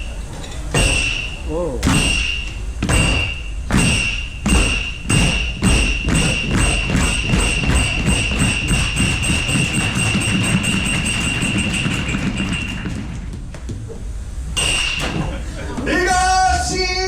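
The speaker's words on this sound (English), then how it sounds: "They bang together two wooden blocks called Hyoshigi." Hyoshigi wooden clappers struck together at a sumo event in Asakusa, loud and sharp, starting with slow spaced claps that speed up into a rapid roll before stopping; a voice briefly exclaims near the end.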